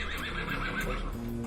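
A horse whinnies inside a large brown wooden barn stable, a harmonic neigh rising and wavering through the first second over low rumbling background and faint movement.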